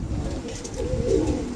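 A blue pouter pigeon coos close up, a deep, rolling throaty call swelling near the end over a steady background hum.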